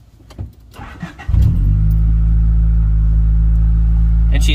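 A Honda del Sol engine cranks briefly after faint clicks and catches into a steady, loud idle rumble close by, running evenly to the end.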